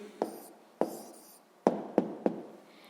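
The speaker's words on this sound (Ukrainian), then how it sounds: "Записуємо відповідь." An answer to a sixth-grade percentage problem written by hand, heard as five short, close taps and scratches of pen on paper spaced unevenly over three seconds in a quiet room.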